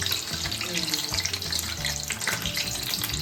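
Singara deep-frying in oil, a steady dense bubbling sizzle that fills the whole stretch, close and fairly loud with a few soft clinks and stirs on top and no talking.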